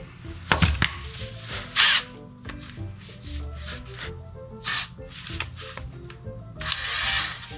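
A small impact driver works on nuts and bolts in short bursts, with brief whirring pulses and clanking tool handling scattered between them, close by.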